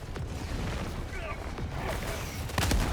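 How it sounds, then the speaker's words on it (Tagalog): Orbital strike explosions and gunfire in the video game Helldivers 2 on a level 9 Helldive mission, with dense rumbling booms and crackling shots, and a heavier blast near the end, under faint voices. "Firing orbital strike."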